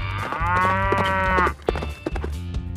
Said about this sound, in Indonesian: Wow, kita mendapatkan sapi.